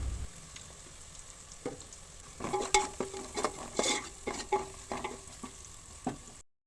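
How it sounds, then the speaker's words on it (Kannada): Chopped onions dropped into hot oil with mustard seeds for a spicy fish curry, crackling and sizzling in a series of close, sharp pops and bursts with a steady hiss underneath. "ಈಗ ಹಚ್ಚಿಟ್ಕೊಂಡಿರೋ ಈರುಳ್ಳಿನ ಹಾಕ್ಕೊಳ್ಳೋಣ."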